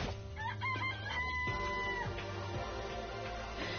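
A chicken clucks and crows in the video game Danganronpa: Trigger Happy Havoc, sounding over steady, loud background game music.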